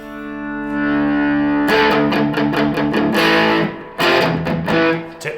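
An electric guitar with heavy distortion plays a sustained chord, then a series of choppy, chugging strums, loud and gritty with no talking.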